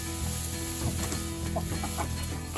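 Chickens cluck in short scattered bursts close by, over steady sizzling background noise, with no one talking.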